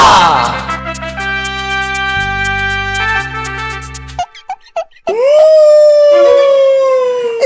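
Loud sustained musical tones give way to a dog's long, wavering howl rising and falling near the end, with brief yelps before it.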